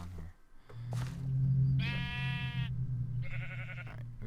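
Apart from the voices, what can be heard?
sheep bleating in the CrackPack video game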